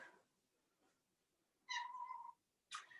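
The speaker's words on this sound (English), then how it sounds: "I've got 2 cats here." A cat lets out a clear, close meow of about half a second in a quiet room, then a second short mew follows a moment later after faint early sounds.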